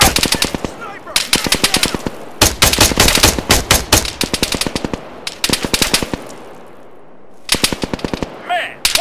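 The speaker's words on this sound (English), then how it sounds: "Contact! Contact! Machine gun! 100 meters front!" Automatic machine gun fire in the military shooter Arma 3, loud and close, coming in rapid sustained bursts separated by short pauses, with a shouted voice briefly at the end.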